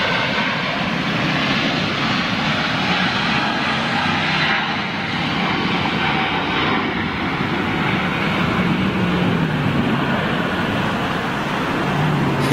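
A large jet airliner taxiing, a steady, loud engine roar and whine that holds evenly throughout with no break.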